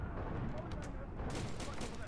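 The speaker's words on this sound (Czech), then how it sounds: "Sakra, sice nevím ani vůbec proč po mně střílí" Gunfire in the video game Far Cry 2 comes as a dense, loud burst of rapid shots that fills the short moment, harsh and close.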